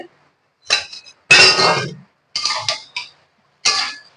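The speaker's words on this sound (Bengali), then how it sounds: "এবার ঢাকাটা খুলে" A lid comes off a cooking pot of hilsa fish head curry: several sharp metallic clinks and scrapes arrive in separate bursts, close and fairly loud, with quiet pauses between them.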